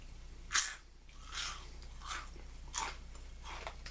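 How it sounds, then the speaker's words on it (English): Five crisp, loud crunches spaced about a second apart, someone biting into Lay's Crunch Tators potato chips close to the mic, with quiet pauses between. "That's some crunchy taters."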